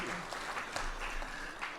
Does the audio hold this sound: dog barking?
no